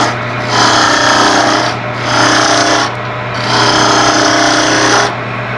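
A spindle gouge cuts into wood spinning on a lathe in three sustained, loud rasping passes, each separated by a brief drop to the machine's steady hum.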